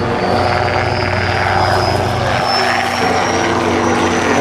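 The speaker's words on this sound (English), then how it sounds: "the AH-1W goes up the runway, you'll notice that the KMAX is turning up" A Kaman K-MAX helicopter turns up at an airshow, its rotor and engine producing a loud, steady droning whine with a rising high tone, close and continuous without any speech.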